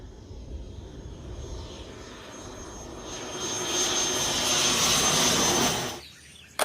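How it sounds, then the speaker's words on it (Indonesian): A fighter jet sound effect plays from a toy military jet, a loud, steady airplane-engine roar that builds and holds before cutting off abruptly. "dan ada jet tempur bapak tentara"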